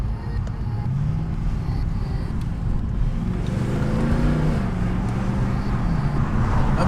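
A 487 hp Mercedes C63 AMG Performance Pack drives along with its engine and exhaust droning steadily throughout, the pitch of the note rising and falling gently as the car pulls.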